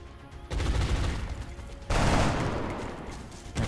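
Video game gunfire in XCOM Long War during a turn-based combat mission: dense, sustained bursts of loud shooting in two waves, with no talking.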